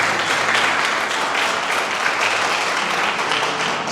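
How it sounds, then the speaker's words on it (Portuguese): A church congregation applauds during an evening prayer service, steady dense clapping filling the room throughout without breaks. "Dê uma salva de palmas para Jesus."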